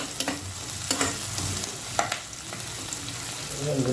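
Chopped garlic sizzles in a pan as it sautés for a pork paksiw dish, a close, steady frying crackle punctuated by the scrape and clatter of stirring.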